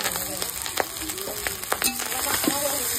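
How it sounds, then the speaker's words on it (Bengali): Fried rice with beans, carrot and capsicum sizzles steadily in a pan at close range, broken by several sharp scrapes and clinks as a spatula stirs it. "ফ্রাই চালটা যাচ্ছে, মানে সরি ভাত"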